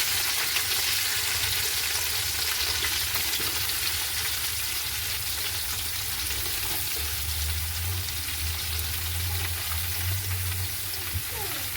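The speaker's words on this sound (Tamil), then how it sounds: "அடுத்ததான் நாங்கள் வெட்டி வச்சிருக்கிற இந்த பெரிய வெங்காயம் வதங்க விட போகிறோம்" Chopped large onions sautéing in a pan, a steady dense sizzle and crackle of frying that continues unbroken for about twelve seconds, close and even, with faint stirring underneath.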